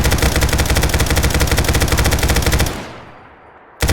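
An SAW light machine gun in Fallout 4 fires one long, rapid, loud automatic burst for under three seconds, then cuts off abruptly into a fading echo.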